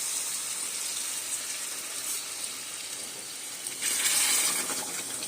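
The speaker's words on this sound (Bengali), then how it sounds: "গরম জলই দিই ঝোল করার জন্য" Hot water poured into a pan of chicken curry to make gravy, a steady hissing gush running throughout and swelling louder near the end, close by with no talk.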